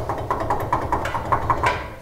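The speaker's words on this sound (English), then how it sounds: "Wheel bearing makes a lot of noise" A worn front wheel bearing on a Nissan Titan, wheel removed, grinds and clicks as the hub turns, with a rough, rhythmic ticking repeating several times per second up close.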